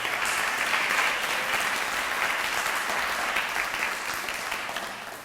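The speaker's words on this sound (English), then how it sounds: "Can you give her a round of applause?" A town hall audience at Yale gives a round of applause, a thick, even wash of clapping from a large crowd that holds steady and then begins to taper.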